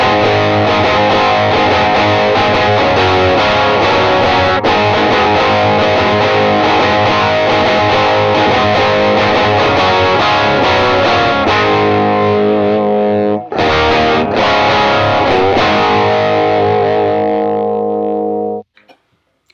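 Electric guitar run through a pedalboard with a gritty 60s-70s rock distortion tone, UA Dream 65 amp, playing sustained distorted chords and riffs loud and close for about nineteen seconds, with a brief gap near the end before it cuts off.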